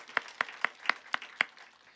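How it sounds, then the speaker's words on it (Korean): A few people in a church congregation clapping to welcome newly registered members, six evenly spaced sharp claps in a slow rhythm, fairly close and otherwise quiet. "우리 박수하겠습니다"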